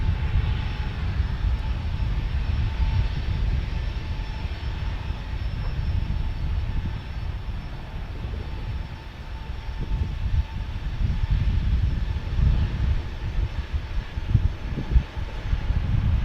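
An Embraer E175 jet takes off on runway 27 at San Diego Airport, a steady low engine roar heard from a distance, continuous and fairly loud, with rumbling swells and no talking.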